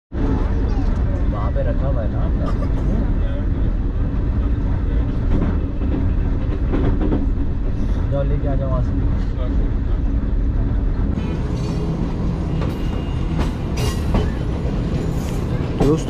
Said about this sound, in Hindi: कॉर्ड लाइन पर भी ट्रेन जो है काफ़ी अच्छी स्पीड में दौड़ती है।